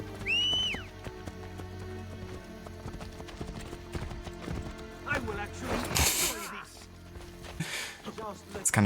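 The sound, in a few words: horse in Assassin's Creed video game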